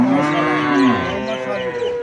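A cow brought for sale at a cattle market lows in one long, loud, close moo that holds steady and then slowly falls away, with no voices over it.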